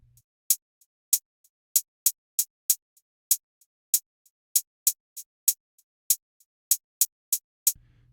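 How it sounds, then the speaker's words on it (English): Hi-hat pattern from an Akai MPC run through an Air Pumper insert effect, a steady train of crisp, bright ticks with alternating loud and soft hits, close and dry with no talking. "So what you're hearing is we got the air pumper,"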